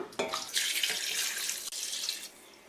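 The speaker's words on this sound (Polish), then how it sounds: "do garnka wlewam wodę" Running tap water pours steadily into a soup pot, a continuous broadband rush with a small break partway through, close and fairly loud.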